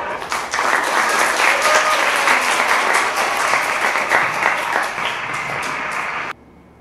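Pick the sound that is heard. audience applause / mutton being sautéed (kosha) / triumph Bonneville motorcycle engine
audience applause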